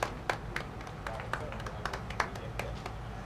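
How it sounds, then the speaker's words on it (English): An audience at a presidential pro-poor housing launch ceremony in Liberia gives a round of clapping, scattered sharp claps with a voice speaking over it. "Can we please give our ED a hand of applause?"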